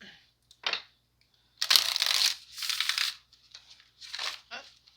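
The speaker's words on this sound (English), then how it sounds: "Oh, these didn't want to shuffle at the end." A deck of tarot cards is shuffled in a few crisp riffled bursts close by, separated by short pauses, with no talk over them.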